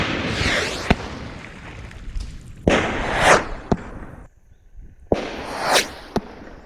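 Three sharp potato cannon shots with a rifled barrel, each followed by a rising whoosh as the potato rips past close to the camera near a pond, spaced a couple of seconds apart with quiet gaps between.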